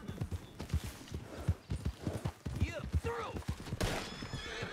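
A horse in Red Dead Redemption 2 online whinnies and snorts up close among clip-clopping hooves, with a few rising neighs standing out over a player talking throughout.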